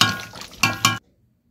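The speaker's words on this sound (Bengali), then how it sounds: "তো খাবার পরিবেশন করে দিচ্ছি" Dishes and utensils clinking as home-cooked food with rice and chicken is served, a few close ringing knocks and scrapes in quick succession before abrupt silence.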